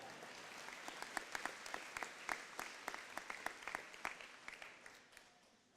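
An audience at an elementary school dedication and ribbon cutting ceremony applauds a former 4th, 5th and 6th grade teacher, with steady clapping that holds throughout and fades out toward the end.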